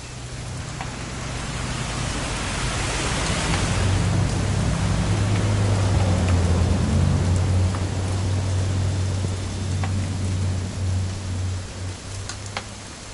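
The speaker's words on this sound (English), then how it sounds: "It's gonna rain the whole weekend," Rainfall in the video game What Remains of Edith Finch, a broad continuous wash of rain with a low rumbling undertone that swells in the middle and eases slightly toward the end, with a few sharp clicks near the close.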